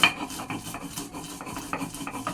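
Washed mustard seeds are ground by hand on a grinding stone for a mashed bean (shim bhorta) dish, giving a close, rhythmic series of rasping, rubbing strokes with no talking.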